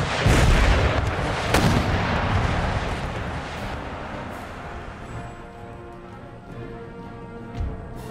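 Artillery fire booms in the Empire Total War video game, with heavy rumbling blasts up front fading into a long rolling tail and a distant thud near the end.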